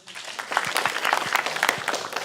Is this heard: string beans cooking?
no